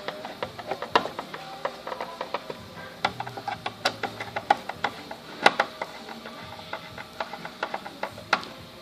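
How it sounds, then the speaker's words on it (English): A screwdriver tightens screws into pilot holes, giving a run of quick, close ratcheting clicks in an uneven rhythm, fairly faint against a quiet room. "I'm going to use my screwdriver to completely tighten them down."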